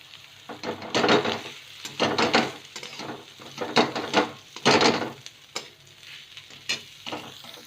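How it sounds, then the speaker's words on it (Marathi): Sliced cabbage and peas are stir-fried in a pan for tawa pulav, sizzling softly while a utensil scrapes and stirs in uneven bursts, close and moderately quiet. "मटार टाकून झाल्यानंतर त्यात आपण उभा चिरलेला कोबी टाकून घेऊया आणि हा शिजेपर्यंत परतूया"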